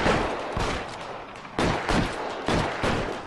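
Gunfire in a video game rooftop shootout in an LAPD detective game, loud close bursts of rapid shots in several volleys with echoing reports and a constant noisy background.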